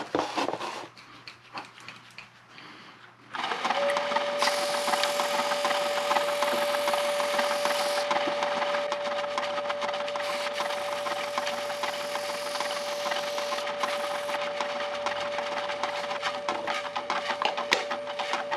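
A wood lathe spinning a finished vase starts up after a quiet moment, then runs steadily with a constant tonal whine and light whirring rub, close and moderately loud.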